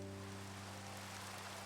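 Rain falling in the Minecraft video game, a faint, even hiss of steady drizzle under a low electrical hum, with no speech.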